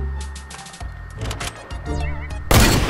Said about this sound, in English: Can we just shoot the thing now?